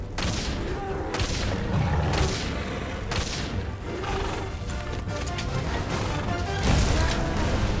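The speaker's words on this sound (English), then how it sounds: "The rock-steady mantle allows our hunter to keep a steady hand whilst firing at the monster." Gunfire at a monster in the video game Monster Hunter World, with repeated shots and impacts over a continuous, busy game soundscape of clattering, thuds and crashes, loud and dense throughout with no talk.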